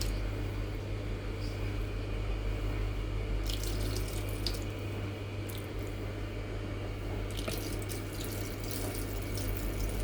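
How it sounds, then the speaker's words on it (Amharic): Strained water poured steadily out of a container into a sink, a continuous close splashing and trickling stream with a few brighter splashes partway through, and no talking. "ያጠለለውን ውሃ ጨርሼ ደፋሁት።"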